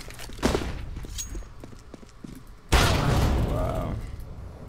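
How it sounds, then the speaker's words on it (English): A flashbang grenade in a first-person shooter game lands with a dull thud, followed by a sharp, loud burst and a sustained ringing wash that slowly fades, with voices talking around it. "Throwing flashbang."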